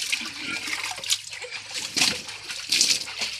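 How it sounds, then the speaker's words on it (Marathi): Tap water splashes and sloshes as heavy quilts are washed outdoors in a village, with irregular wet slaps and bursts close by in a short, busy stretch. "नळाच्या पाण्यानं वाका धुयायची कार्यक्रम चालू आहे"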